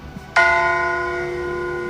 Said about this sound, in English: Midnight bells are chiming, dong ding.